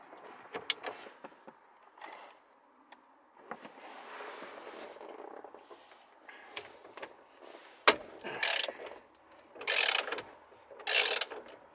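A ratchet with an extension twists out a screw on a car steering wheel during a carbon fiber wheel install on a 2.0T Accord. Scattered metallic clicks and fumbling lead into several brisk, close bursts of rapid ratcheting.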